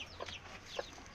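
A mother hen with newly hatched chicks gives two or three soft, faint clucks, heard at a distance in a quiet backyard.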